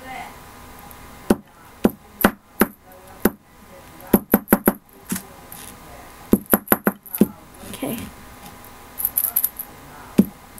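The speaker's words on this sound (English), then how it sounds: "See? I can shake up the sand." Shaking a souvenir glass bottle from Myrtle Beach, filled with seashells and real sand and sealed with a cork, gives a series of sharp clicking rattles in short bursts, close to the microphone, with a few spoken words between the bursts.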